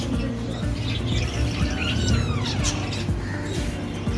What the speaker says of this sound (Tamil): கிளி கத்துறது என்னன்னு பாரு